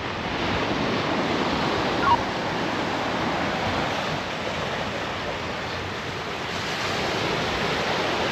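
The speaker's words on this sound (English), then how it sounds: "And the waves, they have a nice little wind chop." Ocean waves whipped by a steady wind chop before a cold-water swim, a continuous broad wash of surf and wind noise holding at an even level throughout, with no voices.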